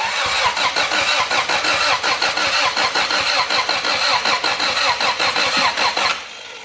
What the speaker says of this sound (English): Is the little shitbox engine gonna run with a new head gasket?